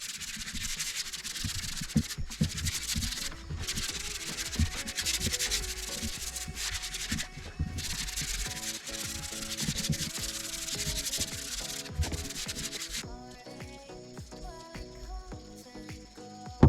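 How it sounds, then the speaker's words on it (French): Hand sanding of a repaired leather steering wheel: repeated rhythmic rasping strokes, close and steady, with brief pauses, before it gives way to quieter rubbing and handling noises near the end. "Je vais remettre un petit coup de ponçage"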